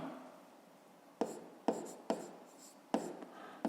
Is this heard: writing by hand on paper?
yes